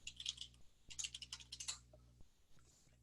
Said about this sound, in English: So I typed in the search for George Washington and hit enter on my keyboard